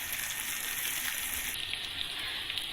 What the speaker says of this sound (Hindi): 2 से 3 मिनट हम इसको फ्राई करेंगे।